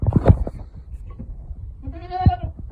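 Farm goats waiting to be fed at morning feeding time, with one clear wavering bleat near the end after some shuffling and low background noise.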